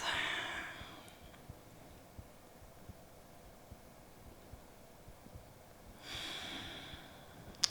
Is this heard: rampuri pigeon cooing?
no